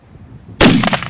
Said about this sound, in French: Quelques coups de feu, histoire de les effrayer un peu